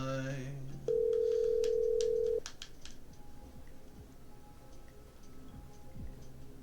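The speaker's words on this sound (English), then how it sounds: "Okay, I'm dialing." Telephone dialing in the Killer Frequency game: a steady dial tone sounds for under two seconds, then cuts off, followed by a quick string of clicking keypad presses and faint background hum.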